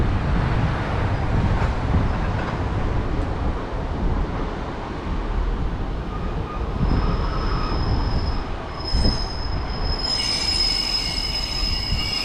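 A Transport for Wales train rolls through a South Wales station with loud, sustained wheel squeal and rumbling rail noise, shrill high squeals rising toward the end, with no talk over it.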